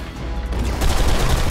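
Rapid gunfire from a weapon in the video game Blacksite rattles in a dense burst. It sounds loud and close and intensifies after the first second, with no talk over it.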